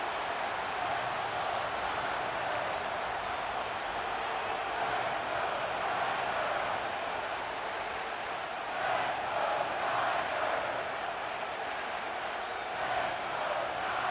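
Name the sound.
stadium crowd cheering in Madden NFL 25 video game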